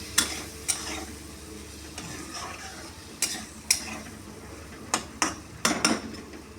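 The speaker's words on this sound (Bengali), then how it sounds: "কড়াইশুঁটিটাও ছেড়ে দিলাম, এরপরে মশলা দেবো। কড়াইশুঁটিটাও একটুখানি সাথে ভাজা ভাজা হয়ে যাবে।" Green peas added to a kadai of cabbage curry sizzle softly in hot oil while a metal spatula clacks and scrapes against the pan in sharp, irregular knocks, near and clear with no talking.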